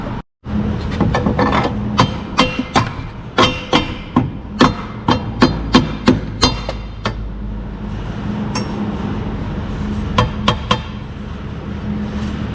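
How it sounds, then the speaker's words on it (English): Sharp metallic hammer strikes ring out while someone works on a Jeep. The blows come in a steady series of about a dozen, close and loud, then several more after a short pause, over a low background hum. "I gotta grab me a hammer real quick."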